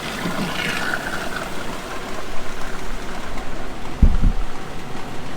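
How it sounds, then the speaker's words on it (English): A water jet fires up into a chemical container on a John Deere 732i trailed sprayer, gushing and splashing inside it, a steady rushing spray with a couple of hollow knocks toward the end, close by. "that fires water up into the container and spills it out"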